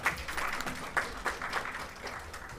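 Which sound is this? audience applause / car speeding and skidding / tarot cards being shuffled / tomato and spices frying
audience applause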